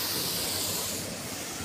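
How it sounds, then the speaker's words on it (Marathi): Water rushes steadily down from the hills in a waterfall, a loud, continuous broadband roar with no breaks. "धबधबा आहे धबधबा"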